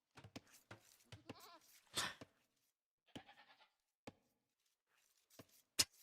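Goats in a Age of Empires style strategy game tournament give out short bleats and clicks, scattered and uneven with gaps of silence between them, a few louder bursts standing out against otherwise quiet game sounds.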